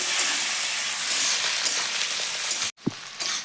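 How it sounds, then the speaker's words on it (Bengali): Cauliflower frying in a pan for egg vegetable chowmein, a loud close sizzle that cuts out abruptly near the end, followed by a thump and the frying resuming. "ফুলকপিটা কিছুক্ষণ ভাজে নিচ্ছি"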